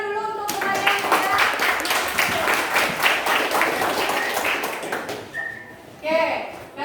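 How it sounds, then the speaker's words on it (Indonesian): A classroom group claps for fellow students after a presentation, a dense, lively patter of hands that fades out, followed by a teacher's voice. "Beri tepuk tangan dulu untuk kalian ya"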